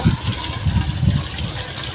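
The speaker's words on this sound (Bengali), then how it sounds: "এরপর পরিষ্কার পানি দিব" Clean water poured into a duck feeder, a steady gushing splash with a low burbling churn that stays even and close throughout.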